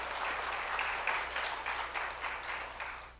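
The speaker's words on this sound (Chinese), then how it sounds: "我们掌声欢迎" A church congregation claps to welcome new members, a dense, steady round of applause from many hands filling the room throughout.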